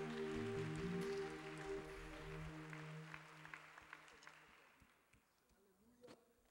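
Soft applause from a church congregation during a sermon rises under sustained keyboard chords, then trails off into scattered claps as the music fades.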